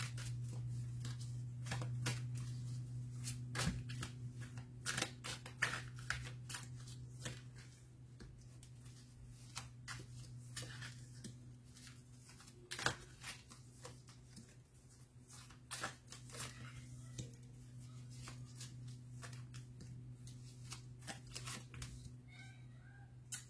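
Tarot cards being shuffled and drawn by hand, a long stretch of crisp card flicks and soft slaps in irregular bursts over a steady low hum, with no talking.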